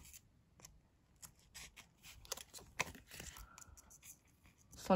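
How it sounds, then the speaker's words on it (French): Scissors snip through washi tape and paper for an art journal page, a series of quiet, close cuts spread over several seconds with faint handling noises. "Je vais reprendre ma paire de ciseaux."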